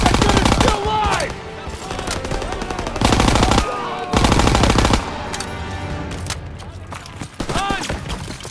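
Long, loud bursts of rapid machine-gun fire rattle through a Call of Duty: WWII battle, broken by short pauses, with voices shouting in the mix.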